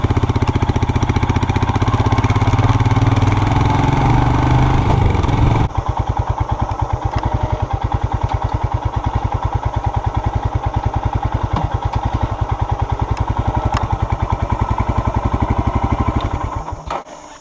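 A Royal Enfield Himalayan Euro 5 motorcycle engine idles close by, first a dense rumble and then a steady, rapid chugging beat that continues for several seconds before cutting off.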